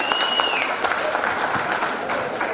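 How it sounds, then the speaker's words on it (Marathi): Audience applause at a school teachers' retirement felicitation ceremony, a close, continuous burst of many hands clapping with a few whistle tones at the start. "त्यांच्यासाठी एकदा जोरदार टाळ्या व्हायला हव्यात."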